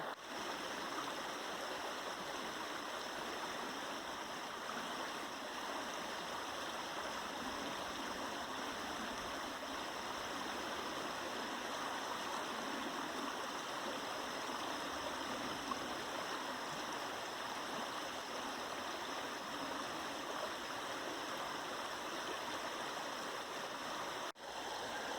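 A river at Priest Hole in Oregon's Painted Hills rushes in a constant, even wash of flowing water, steady and unbroken throughout, with no voices.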